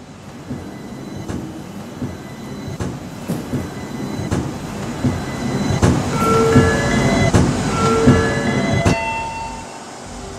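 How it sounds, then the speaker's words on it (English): An express train pulls in at a station platform, its wheels rumbling and clacking steadily with faint squealing tones rising toward the end, moderately loud and close, with no voices. "The train is now arriving for the express train to Clive Central."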